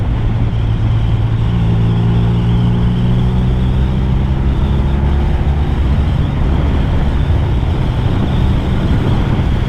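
Honda VFR1200F DCT motorcycle fitted with an Akrapovic exhaust, ridden on roads around Sydney: a loud, steady engine drone with constant wind rush that holds throughout, with no talking.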